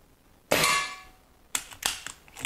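A Diana Bandit air pistol fitted with a regulator fires one sharp, close crack with a brief metallic ring, followed by a few lighter clicks and clacks as it is handled.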